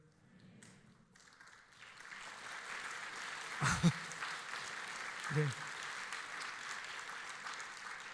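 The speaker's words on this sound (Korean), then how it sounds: "영래교회는 이렇게 말씀 중에 박수를 자주 치시는군요" A church congregation at a Friday prayer meeting breaks into steady applause that swells and holds, with a couple of sharp thumps in the middle and a voice speaking briefly.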